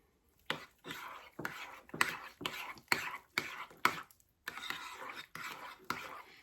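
A spoon stirs chicken with French onion dip in a slow cooker, a steady run of rhythmic scraping, wet strokes repeating about every half second, close and moderately loud with no talking.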